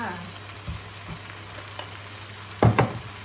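Fresh shrimp go into a hot pan for pad thai, giving a low, steady sizzle over a faint hum, with a louder clattering burst near the end.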